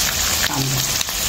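Onion hits a hot pan alongside bell pepper and green chilli, a dense, loud continuous sizzle filling the short moment, close up with no talking.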